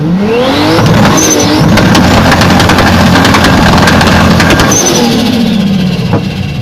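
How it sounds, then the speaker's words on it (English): A Toyota Supra engine revs hard and loud, with rising and falling exhaust pitch sweeps and sharp crackles over a dense, constant roar that fills the whole stretch. "Engine so loud, even a deaf person covers their ears."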